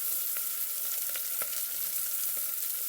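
Turkey bacon frying in a pot, a continuous bright hiss and crackle with small pops, steady and faint, heard up close without talk.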